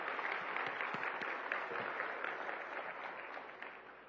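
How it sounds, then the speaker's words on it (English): Sustained audience applause for panelists at a hospitality and tourism summit in Central Florida, a dense, steady wash of many hands clapping that fades slightly toward the end. "Can we give another big round of applause to our panelists and to Pam for moderating?"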